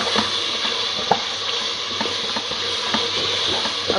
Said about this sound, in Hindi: अभी हम इस मसाले को और भूनेंगे।